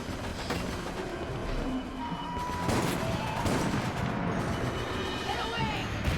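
Rapid gunfire in Resident Evil: Operation Raccoon City, a dense ongoing fusillade of shots with game noise and voices mixed in throughout.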